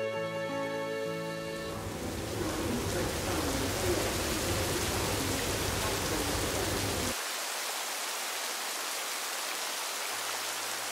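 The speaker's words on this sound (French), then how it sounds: "comme vous avez vu, il pleut" Steady rain falling in Cinque Terre, Italy, a dense even hiss that holds for most of the stretch, with a low tonal hum at the start, then dropping to a quieter wash near the end.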